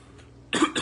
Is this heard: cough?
yes